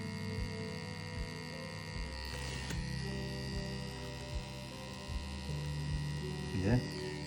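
A direct-drive swash plate tattoo machine motor runs with a steady electric hum and buzz, close and continuous, with faint rhythmic tapping underneath.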